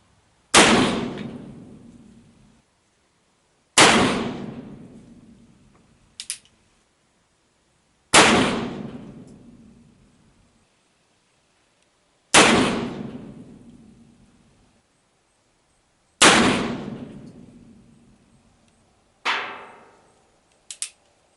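Gunshots fired at a target during a barrel accuracy test comparing wads and lube, five loud sharp reports spaced about four seconds apart with decaying echoes, plus a short metallic click after several shots.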